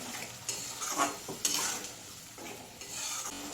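Spice water hits a hot pan of fish curry with ginger, cumin, mustard and green chilli, giving a steady sizzle with stirring scrapes and a few clinks of a utensil against the pan.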